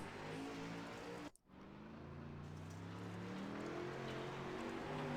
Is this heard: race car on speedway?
yes